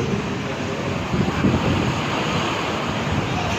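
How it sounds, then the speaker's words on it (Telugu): Heavy rain and gusting wind in Vijayawada make a steady, dense roar with no pauses and no voices. "చాలా హెవీ రైన్ కురవడం జరిగింది"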